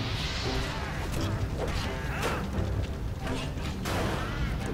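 Explosions and combat effects from the video game Hand of Fate roar continuously over a dense, loud game soundtrack, with several sharp bursts standing out.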